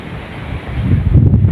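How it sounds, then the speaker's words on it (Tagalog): Strong wind roars over open sea at close range, a steady low rushing gust that swells louder in the final half second, with buffeting noise hitting the microphone and waves washing beneath. "Grabing hangin yan."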